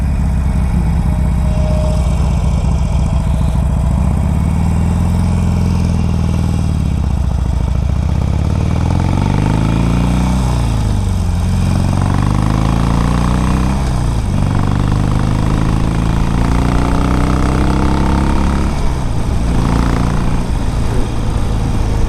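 A 2006 Harley-Davidson 883 Sportster engine runs loud and steady on a test ride, rumbling throughout as the revs rise and fall in repeated sweeps while the motorcycle shifts through gears.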